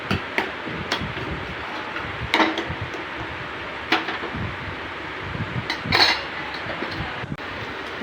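Madurai-style mutton fry is stirred in a pan, giving sporadic scrapes and clicks of the spoon against the metal over a low sizzle, with no one speaking.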